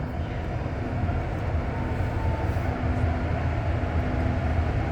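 REM light rail train riding early toward Brossard Station in Montreal, a steady low rumble and rolling hum heard from inside the car, continuous and fairly loud with a faint tonal whine, no talk.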